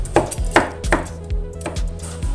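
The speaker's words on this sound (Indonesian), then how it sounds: "Iris sampai dengan selesai, kemudian baru dicuci bersih." A knife slices chayote squash against a cutting board, about six crisp, evenly spaced cuts up close with nothing else heard.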